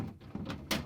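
Samsung refrigerator crisper drawer set onto its rollers, giving a couple of short plastic knocks and a brief sliding rasp near the end, close and fairly quiet.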